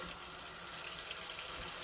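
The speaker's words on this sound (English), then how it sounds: "Alright, I'm going to put my water on warm." Warm tap water pours steadily into a sink before makeup brushes are washed, a continuous soft hiss with no talking.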